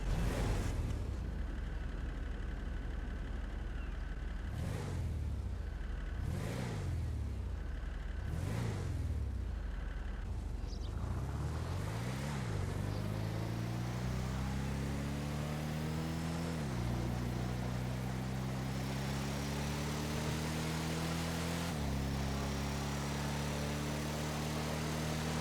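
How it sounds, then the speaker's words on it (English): A diesel car engine idles in GTA Online, a low steady rumble that gets several quick revs early on before settling into a smooth rising and falling drone, alone with no talk. "This idles like a diesel, sounds like a diesel"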